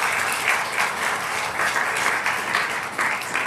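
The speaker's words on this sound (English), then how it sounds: "Let's give a round of applause for them." An audience at an event honoring dancer Boogie gives a steady round of applause, a continuous, fairly soft wash of clapping with no voices standing out.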